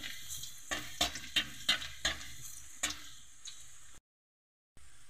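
Garlic frying in hot oil for a spicy adobo in coconut milk with rice-field frogs, with a soft background sizzle broken by a string of sharp spoon clinks and stirring taps, ending in a brief silent gap.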